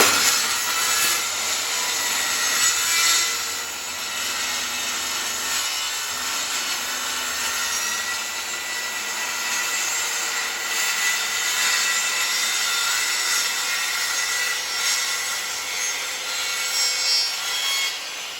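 A circular saw cuts diagonally through hardwood plywood, a steady loud, bright rasping whine that holds for about eighteen seconds with slight swells, close up and with no voices.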